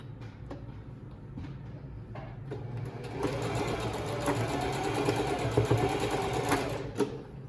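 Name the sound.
sewing machine stitching across fabric edge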